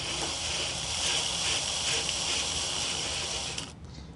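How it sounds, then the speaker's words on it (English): Steady mechanical ratcheting and whirring of a tool holder being screwed into a Pride Mobility scooter canopy, continuous and close, stopping just before the end. "I'm gonna screw it in like this."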